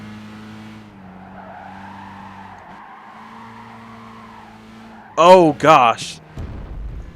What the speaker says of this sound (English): Car completely snapped, and when it caught, it put me straight in the wall.